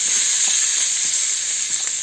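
Green capsicum hits a hot pan with fennel and sizzles steadily, a bright, dense frying hiss held close and loud from start to finish, with no talking.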